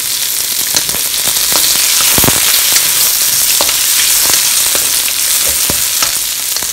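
Garlic, onion and bay leaves sizzle and crackle in hot oil in a pan, a dense, continuous frying hiss with sharp pops scattered throughout.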